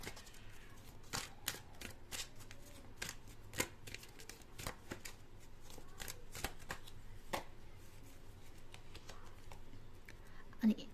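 Tarot cards being shuffled and drawn, with a run of crisp, quick riffles and flicks repeating through the passage, close and fairly quiet over a faint background.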